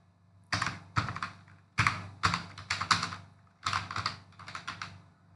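Keystrokes on a computer keyboard while typing a git commit command, in several quick clustered bursts of crisp, close clicks with short pauses between them.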